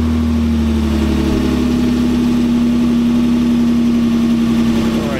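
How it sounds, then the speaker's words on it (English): A 2023 Nissan Frontier Pro-4X pickup truck cold-starts by remote start, giving a loud, steady elevated idle with a droning engine tone. It stays close and continuous throughout, with no talk over it. "we're going to go ahead and give it a remote start and listen to the cold start"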